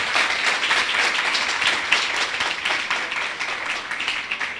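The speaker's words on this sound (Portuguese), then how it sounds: "Vamos aplaudir a palavra do Senhor?" A church congregation applauds after a sermon reading, with a sustained, dense burst of many hands clapping at once and no talk.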